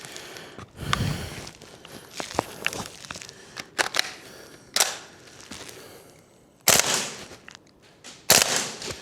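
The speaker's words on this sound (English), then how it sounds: "The rate of fire on that 2-round burst is immense as well." A VFC G36C V2 gas blowback airsoft rifle firing quick two-round bursts during a gauntlet run, with sharp snapping reports clustered in pairs, interspersed with softer handling noises and quiet gaps.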